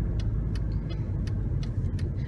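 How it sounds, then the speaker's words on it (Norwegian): Steady low engine rumble and road noise inside a moving car on the commute to work, with faint ticking clicks above, continuous and fairly quiet. "I bilen på vei til jobb."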